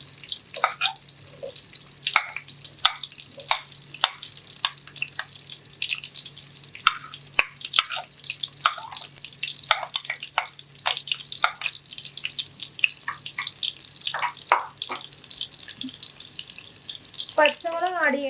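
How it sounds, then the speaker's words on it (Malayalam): Sliced onions go into melted butter for paneer butter masala and fry with a soft, sputtering sizzle, broken by frequent utensil clicks and taps. No one speaks. "ഇപ്പോൾ ബട്ടറൊക്കെ നന്നായിട്ട് ഉരുകി വന്നിട്ടുണ്ട്. അതിലേക്ക് നമ്മൾ എടുത്തു വെച്ചിരിക്കുന്ന സവോള ആഡ് ചെയ്യാം."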